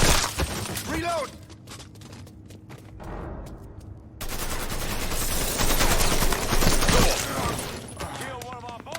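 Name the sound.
gunfire in a shootout, from the video game Mafia III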